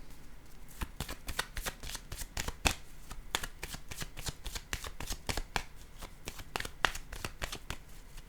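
A deck of tarot cards is shuffled during a card reading, giving a steady run of crisp riffling snaps and flutters, close and moderately loud throughout with no talking.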